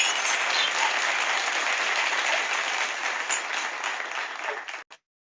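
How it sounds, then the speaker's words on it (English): Conference audience applauding a speaker, a steady, dense wash of clapping from many hands that holds loud for several seconds and then cuts off abruptly. "Let's have a huge round of applause for Rama sir."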